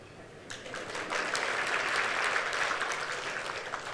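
A church congregation bursts into clapping after a sermon remark, the dense applause rising quickly and holding steady across the room with no voices over it.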